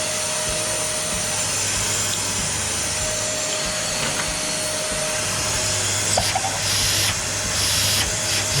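A Dyson DC39 ball cylinder vacuum cleaner with poor suction runs with a constant loud hissing whine and a low hum, then gives a few brief surging bursts of airflow near the end.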